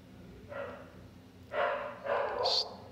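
Dogs barking in the mobile video game Bit Legends: three short, moderately loud bursts of barking spaced out over a few seconds, the last one sharper and higher, with no talking.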